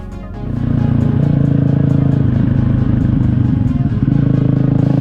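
A CCM Spitfire motorcycle, newly serviced, is ridden along a road with its engine droning loud and steady, a rough low throb and some clatter holding at an even pace throughout.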